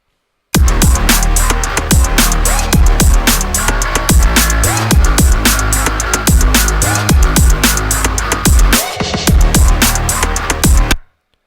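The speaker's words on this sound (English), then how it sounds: "that's basically the drums for basically the entire song" A programmed drum pattern for a song, built in Logic Pro X: steady, punchy kicks and snappy hits repeating in a loud loop for about ten seconds, with no voices.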